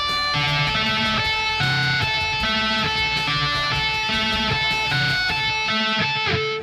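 Electric guitar slowly playing a riff, notes bouncing between the two lowest strings in a steady repeating pattern, loud and sustained with no talking.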